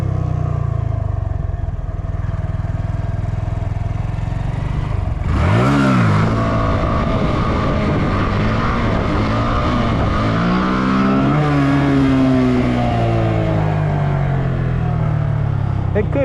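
A car engine in a parking lot revs sharply twice and idles in between, close and loud. People talk over it.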